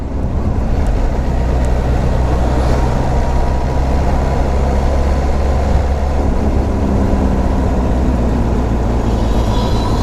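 A Kawasaki H2 SX supercharged motorcycle under way, its engine giving a steady, loud, continuous drone mixed with wind rush, close and unbroken, with no voices.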